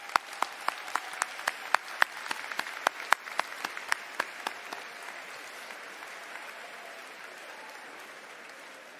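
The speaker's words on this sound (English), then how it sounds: "let's give them a round of applause." Applause from a commencement audience honoring graduates at JSU, with distinct sharp claps over a broad crowd roar that starts strong and gradually thins and fades over several seconds.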